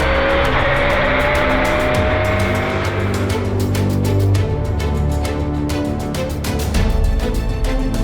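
Rally car driven fast along a stage, its engine loud and close, rising and falling through gear changes and turns, with a tire squeal and a steady driving roar throughout.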